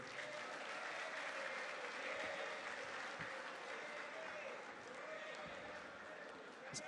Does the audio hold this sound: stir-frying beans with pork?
no